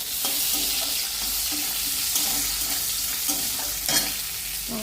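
Onion and chilli fry in hot oil in a pan, a steady close sizzle with repeated scraping strokes of stirring throughout and no talk.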